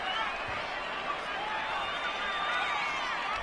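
Steelers-Chargers stadium crowd reacting to a penalty call, a steady, dense roar of thousands of voices sustained at full volume throughout, with no individual speech standing out.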